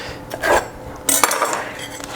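Knife work on charred meat on a board, a few sharp chopping knocks and scraping clatters of utensils, close and clear with no speech.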